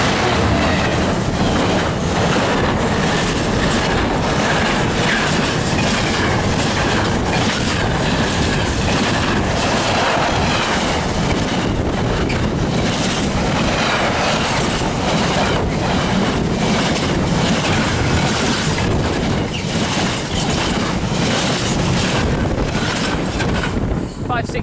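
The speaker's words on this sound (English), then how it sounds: "This is the fifth freight we've seen. Freightliner." Class 66 locomotive 66566 in a two-tone livery hauls a Freightliner freight train past Gipsy Lane level crossing, a loud, continuous rumble with rhythmic wheel clatter and wind buffeting the microphone.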